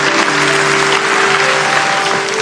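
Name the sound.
applause in church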